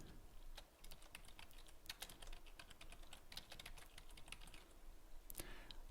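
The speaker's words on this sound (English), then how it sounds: "So I'm going to type that right over here." Typing on a computer keyboard while entering a name into an accounting document, a steady run of light, irregular key clicks at close range over a faint background hiss, with no talking.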